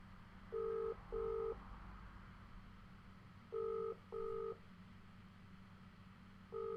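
A telephone ringing tone sounds in evenly spaced double bursts, faint and steady over a low background hum, with no talking.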